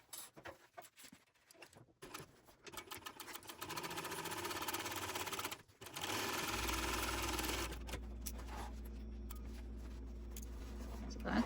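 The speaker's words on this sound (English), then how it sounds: "now I'm going to sew it at 3/8 of an inch along this seam" A sewing machine stitches a 3/8 inch seam on a fabric pouch, running in a steady continuous hum that grows louder and holds through the second half, with brief pauses and some handling noise early on.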